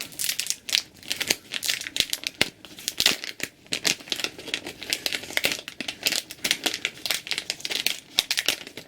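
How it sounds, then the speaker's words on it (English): Spigen U100 universal metal kickstand packaging being torn open by hand, a close, dense run of sharp crinkling and ripping bursts with no talking. "Let's just tear this open."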